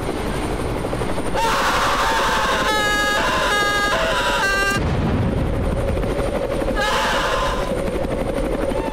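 A helicopter roars loud and steady throughout, its close rotor noise filling the scene, while brief tonal bursts and sharp crackling sounds break in over the top.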